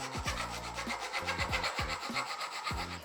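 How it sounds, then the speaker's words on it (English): A rough, crooked cut is filed by hand during an e-bike build, producing repeated close rasping strokes in an even back-and-forth rhythm, about eight strokes with no talk. "We've definitely got a bit of filing to do."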